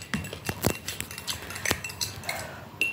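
Crisp, irregular crunching and clinking while eating coarse fried rice (chal bhaja) with salted tea, close and fairly quiet, with scattered sharp snaps and light utensil taps.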